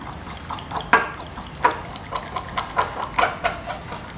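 A fork mixing grilled eggplant with olive oil, producing a series of close, soft wet clicks and squelches at an uneven rhythm, alone without talking.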